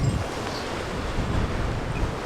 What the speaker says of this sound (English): Right as we talk about leaving, why does it get so windy?